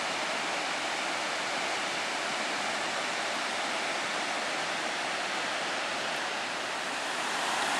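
A waterfall roars in a steady, dense rush of falling water, loud and unbroken throughout, with no voices.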